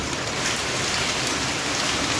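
Heavy rain with hail falling in Dehradun, a dense, steady hiss of drops striking surfaces, close and continuous with no voices.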